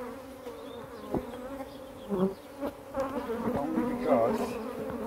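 Honeybees swarm and buzz around an open hive in a UK apiary during feeding, a steady close drone with louder swells as individual bees pass near, while a person briefly speaks.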